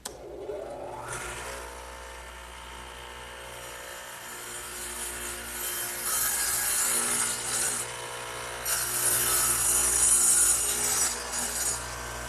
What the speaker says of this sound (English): And the radial arm is set up with a dado head, which is just 2 blades at an angle to one another so they plow out material.